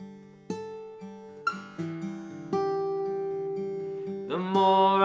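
An acoustic guitar plays the fingerpicked pattern for The More I Seek You, plucked notes ringing out clearly one after another, building to a fuller strummed chord at the end, with no voice.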